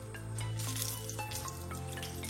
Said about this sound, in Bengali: এবার ওই একই তেলে দিয়ে দিচ্ছি একটা দারচিনি, 2-3টে ছোট এলাচ, 4-5টা শুকনো লঙ্কা আর একটা তেজপাতা।